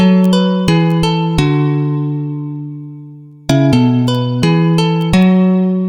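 A synthesized guitar from Ableton plays plucked chords in an uneven rhythm, each note ringing out and decaying, with a long sustained chord before the pattern resumes.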